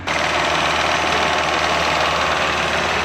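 A petrol car engine idling with a slight misfire, a steady close rumble with faint irregular knocks running the whole time, no voices.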